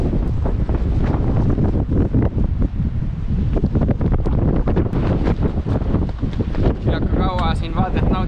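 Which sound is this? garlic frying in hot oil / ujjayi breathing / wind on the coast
wind on the coast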